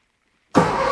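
A 1959 VW Beetle engine cranks after sitting 42 years: silence, then an abrupt, loud, close-up starter grind that continues to the end.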